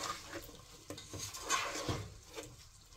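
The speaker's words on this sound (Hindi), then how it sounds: "और इसको भी अच्छी तरह मिक्स कर लेंगे।" A spoon stirs Brussels sprout curry with tomatoes in a pan, soft scraping and clinking taps against the metal with a faint sizzle, irregular and close.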